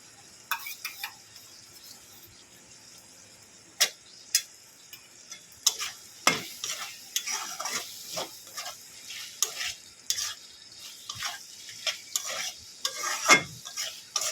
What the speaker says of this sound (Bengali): ভালো করে একবার নেড়ে চেড়ে মাখিয়ে নেব